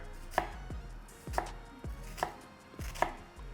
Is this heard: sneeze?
no